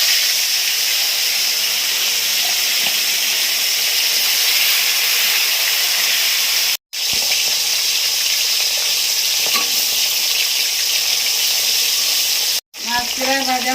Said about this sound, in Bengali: তেল গরম হয়ে গেছে, কই মাছগুলো দিয়ে দিচ্ছি একে একে।